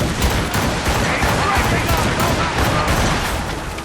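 Dense, continuous volley of cannon blasts and musket fire booms across a naval battle in Assassin's Creed Rogue, loud and sustained with shouted commands buried in the din.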